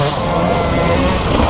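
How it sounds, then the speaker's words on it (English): A two-stroke TPI dirt bike engine buzzing hard off the rev limiter, a steady, close, saturated drone with no pauses. "That is a TPI revving off the limiter right there."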